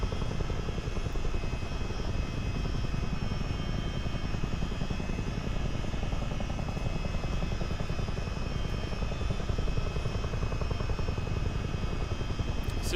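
CH-47D Chinook tandem-rotor helicopter cruising in a multiplayer flight simulator game over the Great Lakes, a steady dense rotor and engine drone holding at constant loudness throughout with no talk over it.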